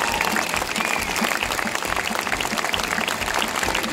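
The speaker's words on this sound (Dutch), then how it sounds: "ik zou heel erg graag van u een heel erg groot applaus willen" Loud, steady applause from a large audience at an open-air quarry theatre, dense and continuous from start to finish with no break.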